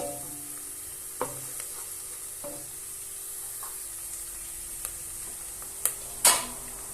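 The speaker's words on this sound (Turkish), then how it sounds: "Güzel soğanlarım kavruldu" Onions sauté quietly in a pan with a soft, continuous sizzle, broken by a few light clicks and taps of stirring and a sharper clatter near the end.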